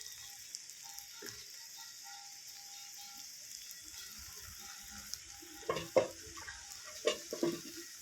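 Soybean kebabs frying in oil in a pan, a faint steady sizzle with a few brief louder crackles and stirring clatters near the end.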